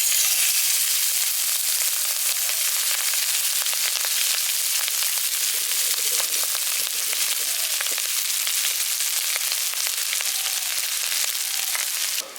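Cooked rice, boiled earlier with whole garam masala, fries in a pan for village-style lemon rice, producing a continuous hissing sizzle with faint crackles and stirring, steady and fairly loud throughout.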